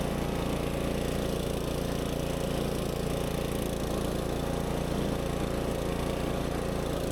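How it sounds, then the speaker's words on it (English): A DR mower, only about six weeks old and on its first use, runs steadily through grass in second gear, giving a loud, continuous engine drone with no break and no voices. "I've only had this GR mower for about a month and a half, and this is actually my very first time using it."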